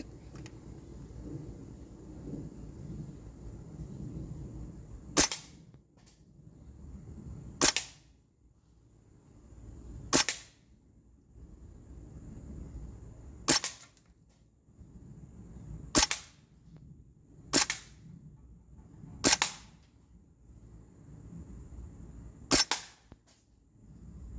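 Springfield Armory M1 Carbine 4.5mm CO2 blowback BB gun fires about nine sharp, separate cracks at an irregular pace outdoors, each shot short and snappy against a quiet, faintly humming background.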